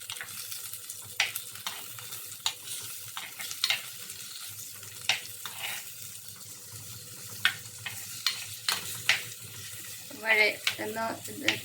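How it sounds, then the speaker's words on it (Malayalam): Tomato sautéing in a pan for a Vatta fish curry, a low sizzle under repeated sharp spoon scrapes and clinks against the pan, close up, with a brief burst of running water near the end. "തക്കാളിക്ക ഇട്ട് അതൊന്ന് വഴറ്റിയതിന് ശേഷം"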